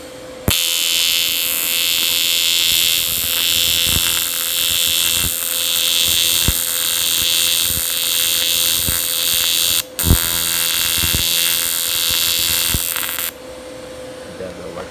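A PrimeWeld 225X TIG welder arc running at a higher AC frequency with cleaning set near 15%: a loud, steady, high-pitched buzzing hum held for about thirteen seconds with a brief break near the middle, followed by quieter room noise.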